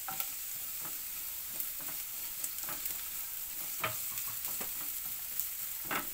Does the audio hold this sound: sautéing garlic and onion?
yes